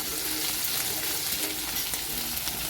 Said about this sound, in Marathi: हिरव्या मिरचीला पण छान परतून घ्यायचे